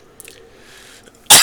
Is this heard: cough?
yes